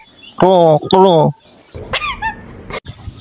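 A pet parrot gives two loud, harsh squawking calls in quick succession, imitating a crow close to the listener, followed by softer chatter and a few sharp short cries.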